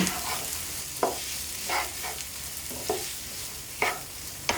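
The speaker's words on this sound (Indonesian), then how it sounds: "sekarang kita mau tumis bawang putih dan bawang bombay kebetulan minyaknya sudah kita panaskan langsung kita masukkan kita tumis sampai harum" Garlic and onion sauté in hot oil, giving a steady, close sizzle broken every second or so by the scrape of a spatula stirring the pan. No one speaks.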